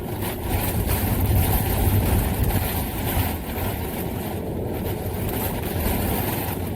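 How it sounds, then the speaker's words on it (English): Steady rain drums on the roof of a narrowboat, a dense, even hiss with a soft low rumble that stays constant throughout, with no voices. "It's still raining."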